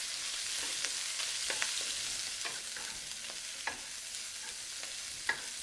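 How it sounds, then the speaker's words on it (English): Green pepper fries in hot oil for a steady, bright sizzle, with repeated sharp scrapes and taps from a spatula spread throughout. "Let's fry the green pepper first."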